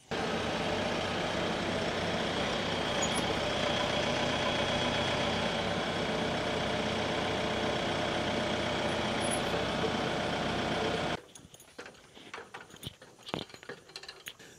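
A tractor engine runs steadily close to a house roof where solar panels are being replaced, a loud continuous rumble for about eleven seconds before cutting off, leaving faint clicks and knocks.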